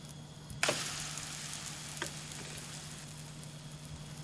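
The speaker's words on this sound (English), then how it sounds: "Watch the pancake cook, and when the surface loses its gloss and becomes dull, turn it over to cook the other side." A savoury pancake cooks in a frying pan with a soft, steady sizzle throughout, broken by a sharp clack near the start and a lighter tap shortly after.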